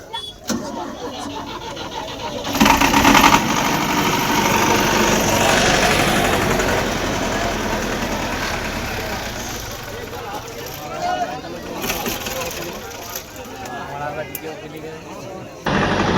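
A diesel generator turns over and catches at a sound system check, then settles into a loud, steady rumbling run that continues with voices faintly over it.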